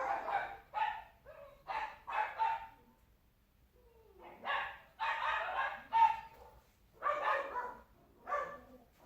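A dog barks in quick bursts of two and three, pausing between volleys, fairly close and clear against an otherwise quiet background.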